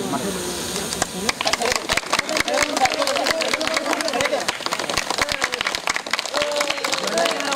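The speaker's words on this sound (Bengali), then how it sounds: "এই করতালি সবাই।" A group at a school reunion for the 1998 batch claps together in a dense, sustained burst of applause, with crowd chatter mixed underneath.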